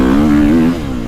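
A KTM 450 Factory Edition dirt bike rides a choppy motocross track at Briarcliff, its engine roaring loud and close with a strong steady buzz that drops slightly toward the end.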